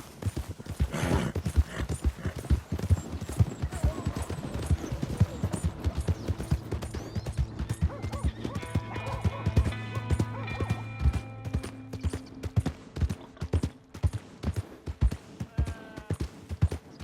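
Hooves clip-clop steadily on a hard surface throughout, with a horse whinnying near the start and a low rumbling drone building in the middle, in the video game Red Dead Redemption 2.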